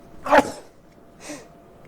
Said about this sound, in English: I'm gonna sneeze. I'm gonna sneeze good.